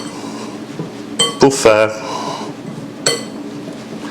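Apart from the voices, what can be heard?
mixing ingredients in a bowl, utensil clinking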